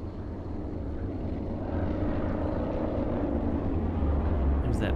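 A plane passes overhead in The Following video game, a steady droning engine hum that swells gradually in loudness over a few seconds, fairly distant and alone.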